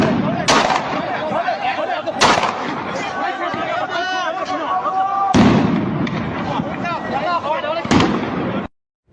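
Gunfire crackles during street clashes between protesters and security forces near the US embassy in Iraq, with several sharp loud bursts standing out over a continuous roar of crowd shouting and chaos.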